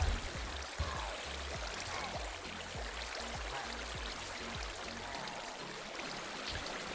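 Flowing water in a Minecraft pillager farm, a continuous faint rushing stream with soft low burbles, steady and without talk.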